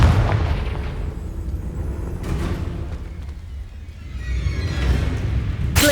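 A Confringo blasting spell explodes in the wizarding game Hogwarts Legacy, a loud rumbling blast that swells and fades over several seconds, with a sharp burst at the end.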